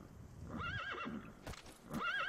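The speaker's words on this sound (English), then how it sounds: "My horse is stuck." A horse in Metal Gear Solid V: The Phantom Pain whinnies twice, loud and close, with clip-clopping hooves and rustling between the two neighs.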